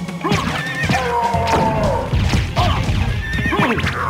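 A horse neighs repeatedly in Castlevania: Symphony of the Night, the loud whinnies mixed with hoof clops and crashing game effects.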